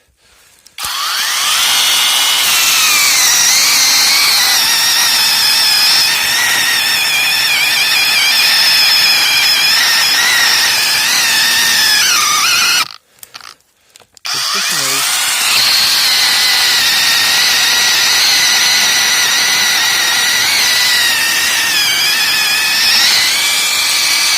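A loud, whining chainsaw with a 12-inch bar cutting firewood in two long stretches, briefly stopping midway before revving and cutting again.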